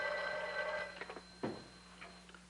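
A telephone rings twice, faint and tinny as heard down the line in a 1950s crime drama, with a steady mains hum underneath and no one talking.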